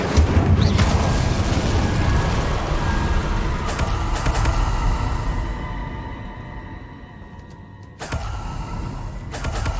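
An Incendio fire spell cast in Hogwarts Legacy bursts into a loud whooshing roar of flame that rumbles and fades over several seconds before a second sharp burst near the end.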